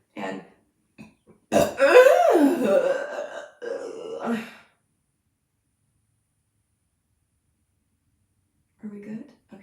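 A man burps loudly and lingeringly, one long throaty belch with a rough gurgle close to the mic, followed by silence and a faint short sound near the end.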